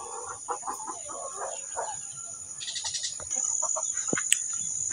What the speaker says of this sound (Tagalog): Pinagsubay-subaybayan ko lang yung yung mga alaga kong manok